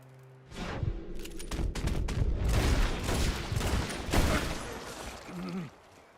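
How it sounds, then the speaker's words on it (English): Close, loud volley of gunfire in Red Dead Redemption 2 as Dutch shoots Micah, sustained rapid shots with booming impacts over a rumbling score, no talk. "Dutch shoots Micah and players can get the revenge they've been waiting for so long"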